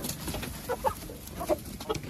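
Laying hens at a dacha coop cluck in short bursts, a few soft calls scattered over a low, busy farmyard background.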